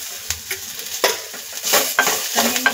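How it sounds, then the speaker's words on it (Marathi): Onion, grated coconut and tomato sautéing in hot oil in a pan, with a soft steady sizzle and a few scraping stirs of a spatula, close by and alone with no talk. "आता आपण त्यामध्ये खोबरं आणि टोमॅटो पण परतून घेऊया।"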